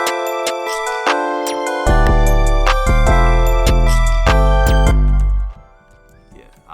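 A plugg beat plays a bright melodic loop alone at first, then a deep 808 bass and drums drop in partway and pound loudly under the melody before the beat cuts out near the end.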